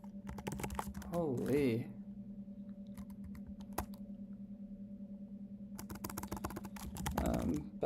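Computer keyboard typing during an evening coding session, a patter of quick clicks in bursts, close by, with someone talking and a steady hum underneath.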